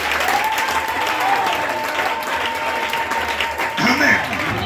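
A church congregation breaks into loud, sustained applause, dense clapping close by throughout, with a few voices calling out over it near the end.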